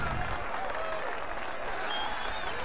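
A crowd in the Saints Row 4 video game claps and cheers in a dense, sustained wash of applause, with a voice heard faintly over it.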